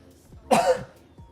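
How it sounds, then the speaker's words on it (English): A single sharp cough lands right into a close microphone, a loud brief burst with a throat-clearing quality amid quiet background. "Sorry, I just coughed right into the microphone."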